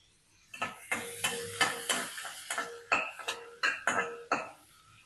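Small onions being sautéed in oil in a kadai, with repeated scraping and clinking stir strokes against the metal pan at a steady rhythm over a soft sizzle, close and clear.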